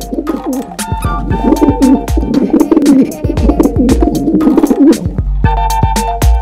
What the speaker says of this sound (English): A pigeon makes a cuckoo sound.